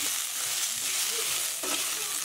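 Onion, curry leaves and tamarind fry in a pan for village-style snail curry, giving a loud, continuous hissing sizzle with a brief stir-like scrape near the end, no voices.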